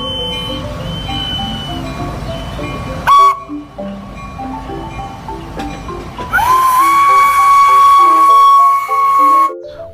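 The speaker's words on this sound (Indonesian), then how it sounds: "Di sini ada kereta api Thomas." A toy train sounds loudly up close, with chugging noises and a bright electronic whistle that rings out long near the end.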